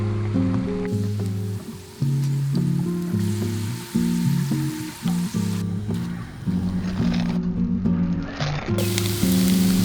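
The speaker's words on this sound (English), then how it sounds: "Flash fry in a hot oil, and you have really crispy, tasty parmesan crisp fries." Parmesan crisp fries flash frying in hot oil give a steady soft sizzle that runs the whole time beneath a louder, bouncy musical backing.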